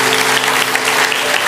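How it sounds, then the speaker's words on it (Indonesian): A church congregation applauds steadily, a dense, continuous wash of clapping that fills the whole moment without any voices. "Kasih tepuk tangan untuk Tuhan."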